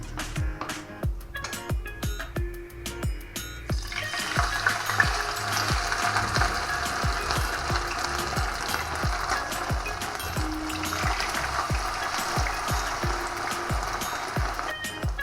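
Kėdainiai pancakes of potato, meat and cheese go into a frying pan; rapid mechanical clicking at first gives way to a steady, broad sizzle of frying close by.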